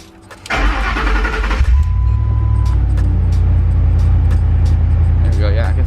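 Truck engine starting: a brief cranking whirr, then the engine catches and settles into a loud, steady, close-up low idle rumble.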